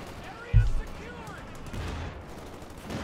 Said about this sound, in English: Even the machine gun is able to shoot at them fairly easily